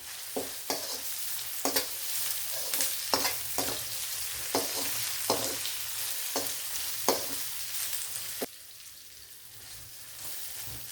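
Curry leaves and asafoetida hit hot oil in a pan and crackle, with a steady close sizzle and a string of sharp stirring taps roughly every second, then the sound drops quieter near the end. No speech.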